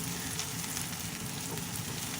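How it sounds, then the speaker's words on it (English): Sautéing for black chickpea kadala curry in a pan, a continuous close sizzling and crackling of frying, steady and even throughout with no voices. "So how long do you saute this, Mummy?"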